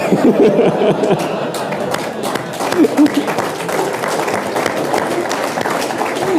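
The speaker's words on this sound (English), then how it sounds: "while you're clapping" An audience at a Charlie Munger talk on investing claps in a sustained, dense patter of many hands, with a low murmur of crowd noise underneath.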